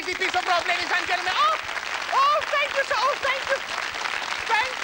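A studio audience at a 1982 TV magic show gives steady, continuous applause, with someone speaking loudly over the clapping.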